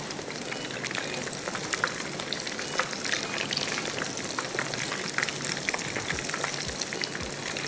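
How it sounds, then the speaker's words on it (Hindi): Boneless boti pieces frying in hot oil, a steady dense crackle and sizzle with no voice over it. "हम भी एक एक इसको डालेंगे और इसको हम करेंगे फ्राइड।"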